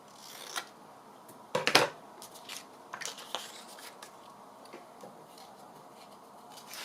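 Scissors cut through thick printed paper in a few sharp, crisp snips, with a loud cluster near the start and quieter clips and rustles after, close to the ear with no talk.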